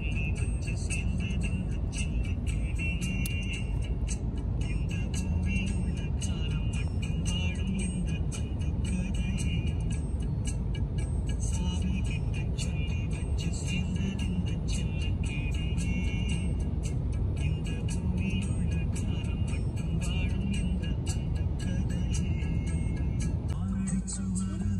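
A car crawling slowly through heavy traffic in Germany, with a steady, unbroken low rumble of engine and road noise throughout.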